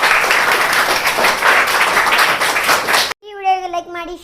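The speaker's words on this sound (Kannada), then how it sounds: "ಎಲ್ಲ ಚಪ್ಪಾಳೆ ಹಾಕ್ರಿ" Children clap together in a classroom maths game, a dense burst of applause that lasts about three seconds before cutting off, and then a voice speaks.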